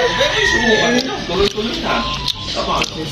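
A rooster crows and clucks close by in a lively setting, its calls overlapping with busy chatter and laughter from people nearby.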